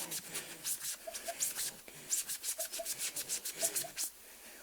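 A wet magic eraser sponge rubs a scuff mark off a collectible doll in quick, soft back-and-forth strokes, close and fairly quiet, with brief pauses.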